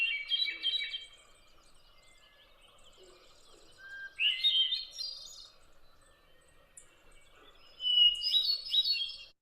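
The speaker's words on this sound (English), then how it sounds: "So the hermit thrush looks a lot like the Veery. It's more famous. Its song is like this." Hermit thrush song: three separate fluted, ringing phrases, each starting on a long clear note and rising into rapid trills, spaced a few seconds apart with quiet between, clear and close.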